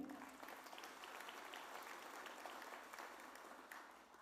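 A large audience at the Miami Lighthouse 95th anniversary event bursts into steady, dense applause that fills the whole stretch at an even, sustained level without pause.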